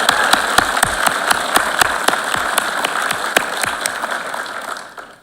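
An audience at a law school pinning ceremony claps for an associate dean, producing a steady run of crisp, fairly sparse handclaps that fade out near the end.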